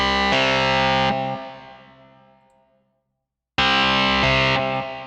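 A distorted electric guitar run through a Logic Pro X amp simulation, with the Shure 57 mic option selected, strikes a loud chord that rings and decays into silence before a second strong chord hits.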